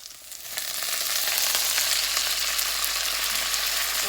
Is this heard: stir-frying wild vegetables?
yes